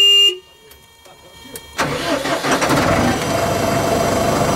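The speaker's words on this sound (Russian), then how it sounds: "Гудят десятки дизельных двигателей." Diesel engines of tanks and military vehicles running in a repair park: a car horn and an engine start up, then a loud, steady mechanical rumble and idling drone with clanks, close by.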